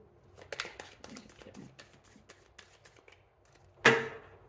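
Quiet tarot card shuffling with soft flicks and rustles, a brief pause, then a single sharp slap as the deck is set down.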